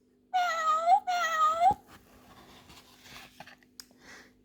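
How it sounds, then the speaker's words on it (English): Two loud, clear cat meows from a Thomas and Friends sound book play back to back, then faint page handling and light rustling follow. "That's the cat."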